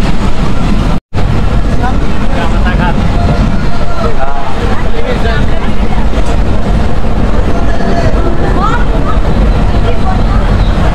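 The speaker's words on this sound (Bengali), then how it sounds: "এই যে সামনে আপনার আবার স্টেশনে ঢুকছে গাড়ি।" A train rumbles loudly and continuously as it pulls into Katakhali station in Bangladesh, a dense rolling clatter of wheels and carriages filling the whole stretch with a brief dropout near the start.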